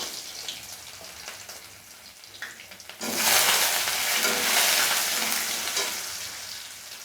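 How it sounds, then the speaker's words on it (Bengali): Potato pieces fry in hot oil seasoned with reddened whole spices, a quiet sizzle suddenly swelling into a loud, dense, hissing crackle that holds steady, close by and with no talking. "এবারে প্রথমে আলুটাকে একটু ভেজে নেব"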